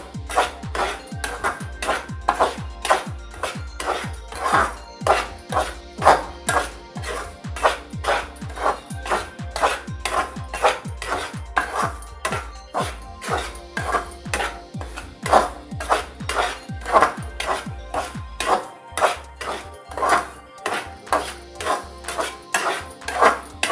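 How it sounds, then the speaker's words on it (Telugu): Semolina is dry-roasted in a pan for rava laddu: a utensil scrapes and taps against the metal in a fast, even rhythm of strokes that repeats steadily and loudly throughout. "అంతవరకు మనం వేయించుకోవాలి రవ్వను"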